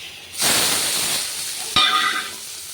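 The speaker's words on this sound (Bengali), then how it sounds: "তেলের মধ্যে পেঁয়াজ আর টমেটো একসাথেই দিয়ে দিই" Onion and tomato hit hot oil in a pan where fish was just fried, a sudden loud sizzle that hisses steadily, then flares again as more is added.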